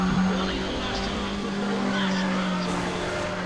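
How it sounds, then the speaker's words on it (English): A tuned Mazda RX-8 rotary engine in the racing game Need for Speed ProStreet holds a steady, high droning note throughout, close and continuous, with a voice talking faintly over it. "they definitely caught the rotary sound in this game."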